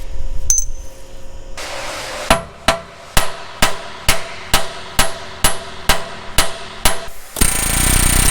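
Heavy hammer blows strike metal about a dozen times in a steady rhythm in a workshop, each a loud ringing clang, followed by a burst of hissing noise.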